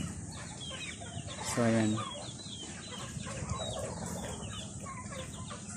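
Free-ranging chickens being fed a snack, a close clucking flock with one loud harmonic squawk early on and ongoing softer clucks; someone speaks briefly.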